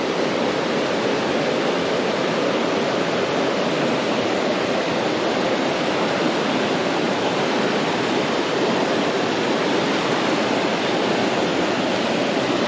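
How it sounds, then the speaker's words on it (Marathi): The Kanandi river rushes beneath a bamboo footbridge in dense forest, a steady, loud broadband roar of flowing water with no voices. "ही खाली कानंदी नदी वाहते"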